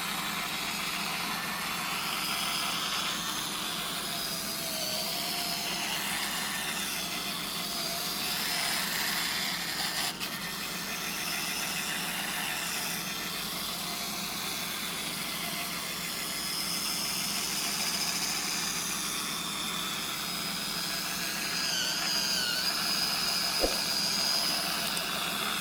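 An electric foot file whirs continuously at close range as it grinds callus from a heel, a steady buzzing tone with slight shifts in pitch and pressure throughout.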